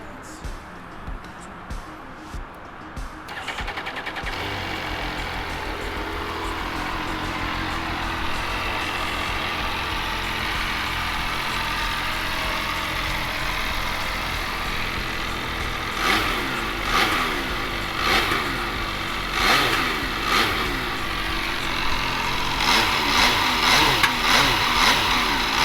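An MV Agusta Brutale Rosso 800 motorcycle engine starting up and idling with a steady rumble, then blipping through repeated throttle revs toward the end, close and loud.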